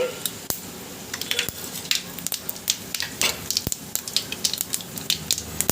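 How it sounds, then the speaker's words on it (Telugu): Mustard seeds and dried red chillies fry in hot oil for semiya pulihora, a steady close sizzle dotted with sharp, irregular pops and crackles throughout. "ఆవాల్ని బాగా వేగనివ్వండి"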